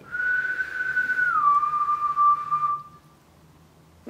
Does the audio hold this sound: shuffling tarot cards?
no